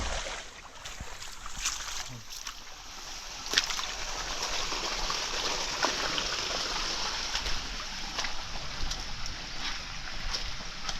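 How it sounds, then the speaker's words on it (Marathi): Spring water rushes steadily into a paddy field after heavy rain, a broad continuous flowing hiss close by with faint splashes, steady throughout and without speech. "याचं पाणी भरतं आहे इथं बघा पूर्ण स्वच्छ पाणी आहे उपलेटीचं"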